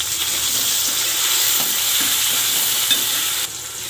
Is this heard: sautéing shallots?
yes